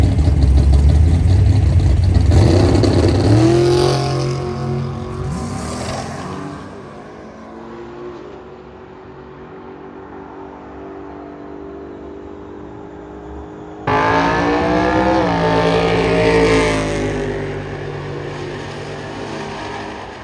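A 1969 Camaro with a 396 big block makes a drag racing pass, roaring loudly at launch and fading as it pulls away, followed by a quieter stretch before another loud engine surge returns.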